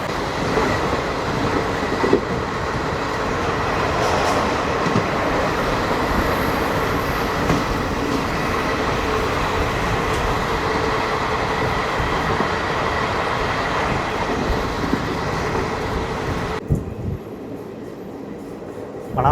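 Renigunta–Mysuru 22136 SF Express running through the South Western Railway zone, a continuous rolling rumble with rhythmic wheel clatter heard from inside the coach, easing off near the end.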